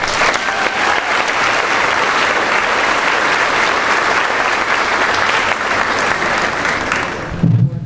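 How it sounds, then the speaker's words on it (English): Sustained, loud applause from a university general assembly audience fills the room steadily for several seconds, then stops abruptly near the end. "So let's give a round of applause."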